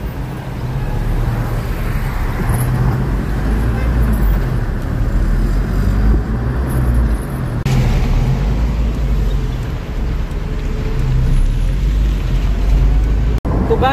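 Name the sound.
street traffic in Saudi Arabia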